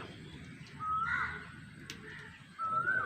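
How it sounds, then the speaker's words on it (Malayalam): Faint, distant Asian koel calls: two clear, rising whistled notes separated by a pause, over quiet outdoor background. "ഈ കുയിൽ ഇവിടെ"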